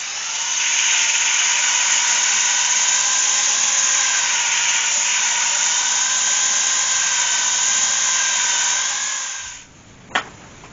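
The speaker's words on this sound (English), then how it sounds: "Just allows me to power sand inside of the bowls a lot easier." A Makita angle drill power-sands inside a natural-edged oak bowl, giving a loud, steady, close high-pitched whine with a sanding hiss that runs continuously before stopping abruptly, followed by a single sharp knock.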